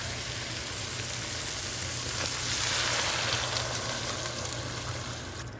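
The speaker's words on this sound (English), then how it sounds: "I'm going to put the whole cabbage in. And there you can see, it's like this. And then I'm going to add the water." Water poured into a pot with a whole cabbage while cooking a Taiwanese-style noodle dish, giving a steady hissing, splashing sizzle that swells briefly midway, no voices.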